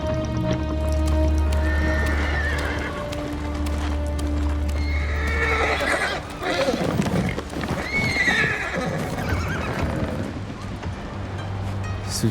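A horse in Ghost of Tsushima neighs and whinnies loudly several times, with clip-clopping hooves and a low ambient hum, while someone speaks over parts of it.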